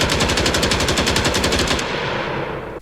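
A rifle in an Unreal Engine 4 video game fires a fast, loud automatic burst of evenly spaced shots that cuts off abruptly, with a brief tail after the last round.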